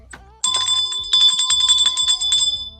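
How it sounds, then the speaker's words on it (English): A bright ringing bell sound effect, a metallic chime that starts abruptly and repeats in quick strikes for a couple of seconds, clear and alone. "don't forget to ring that bell."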